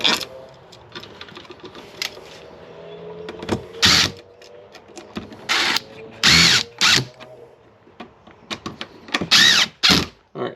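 A switch being screwed into an electrical wall box while wiring a three-way circuit, heard as bursts of short power-driver whirring with clicks and handling knocks in between, fairly close.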